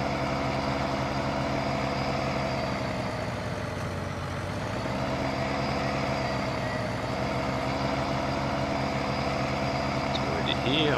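A loud, steady truck engine in Farming Simulator 19 drones continuously, its pitch dipping and rising slightly as it idles and revs, with no speech.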